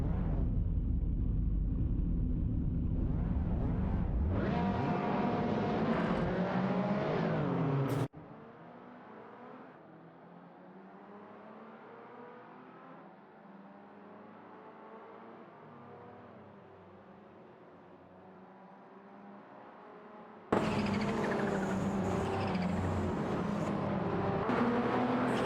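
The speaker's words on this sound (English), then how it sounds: "Keep those engines roaring," Race car engines roar loudly at a racing event, then drop to a quieter, steady whirring drone for several seconds before surging back to a full roar.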